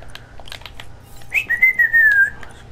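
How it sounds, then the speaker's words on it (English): A person whistles a single sustained note that slides slightly downward, close and clear after a few scattered clicks and soft background noise. "Watch me whistle while I work."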